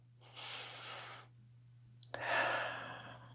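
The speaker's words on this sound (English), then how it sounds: "take 5 deep breaths." Two slow, deep breaths, each a long airy inhale or exhale lasting about a second, close to the ear and quiet, separated by a short pause.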